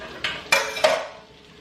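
Spoon scraping and tapping against a frying pan while spreading corn in oil, three quick close clinks in a row followed by a soft fading sizzle.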